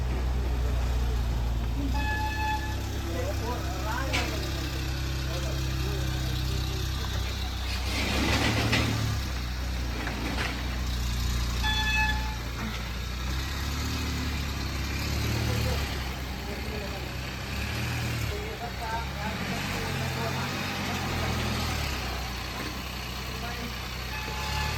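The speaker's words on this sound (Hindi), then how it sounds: "ये वाला गाड़ी को कर दिए हैं स्टार्ट।" A car engine starts and settles into a low, steady idle that runs throughout, with people talking over it at close range.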